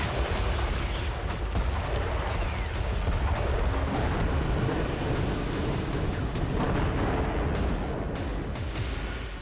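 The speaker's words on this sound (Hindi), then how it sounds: "उत्तर गाजा से लेकर दक्षिण गाजा तक बारूदी कोहराम जारी है" Loud artillery fire and explosions in Gaza form a dense, continuous barrage with rapid cracks and heavy booming rumble, steady throughout without a break and with no voices.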